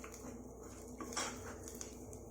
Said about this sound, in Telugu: సో కొంచెం వేసేసి ఇప్పుడు దీన్ని మనం కలుపుకోవాలి.